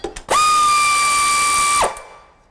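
A ratchet or small power tool on transmission mounting bolts gives a single steady, high-pitched whirring burst of about one and a half seconds, close and loud, with a few faint clicks before and after.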